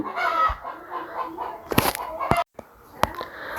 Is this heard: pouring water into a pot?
no